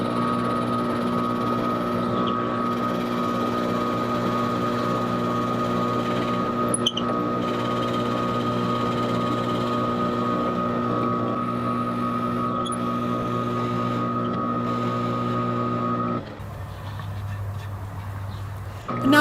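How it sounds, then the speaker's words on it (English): Power drill boring holes for string ferrules through a Crayola crayon box for a two-string diddley bow, a steady loud whine with strong tonal harmonics running continuously, then cutting out near the end. "Now I'll just finish drilling the holes for the string ferrules."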